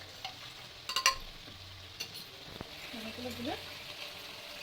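Spice paste and yogurt being stir-fried for masala paneer, with soft scraping and stirring strokes and a faint sizzle close by, broken by a few clinks and brief voices in the background.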